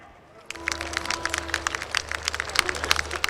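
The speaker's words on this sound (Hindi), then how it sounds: "आपकी बहुत सारी तालियों में" Audience applause at an Iqbal Day stage show starts abruptly and continues as a dense patter of many hands clapping, moderately loud, with a faint steady hum underneath.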